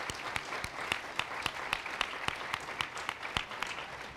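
An indoor audience applauds steadily at a conference event, a dense wash of many hands with a few sharper individual claps standing out, moderately loud and sustained throughout.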